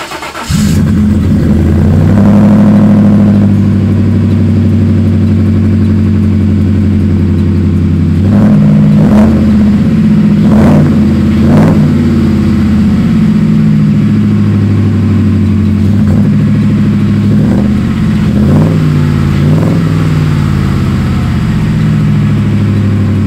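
A Ford F150 truck with a 5.0 engine runs loudly and steadily at close range, its deep idle broken by a series of sharp revs and throttle blips throughout.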